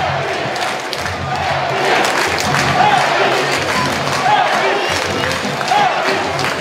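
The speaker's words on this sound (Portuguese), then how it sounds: "captando o instante exato do alarido da torcida, gritando o nome do Elvis." A Ponte Preta football crowd roars and chants a player's name in rhythmic waves during a Campeonato Paulista match, loud massed voices sustained throughout with a commentator's voice faintly underneath.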